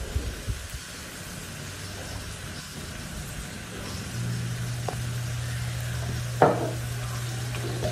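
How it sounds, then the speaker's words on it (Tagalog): Ground pork sautéing in a pan, a steady low sizzle and frying hiss with occasional stirring scrapes and a brief clatter near the end, no talking. "Sauté lang natin yung ating ground pork hanggang sa mag-slightly brown."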